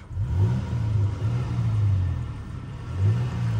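A Toyota Tacoma V6 engine hums and revs with a breathy intake whoosh rising and falling, heard from inside or near the truck, steady and moderately loud.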